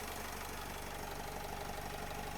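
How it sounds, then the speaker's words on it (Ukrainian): A 2013 Renault Trafic van's 2.0-litre 115 hp engine idles evenly and close by, a steady low rumble with a regular knocking pulse and no other sounds. "Рівнесенька робота мотора."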